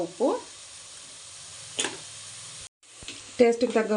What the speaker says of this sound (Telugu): ఇలా బాగా వేయించుకోవాలి.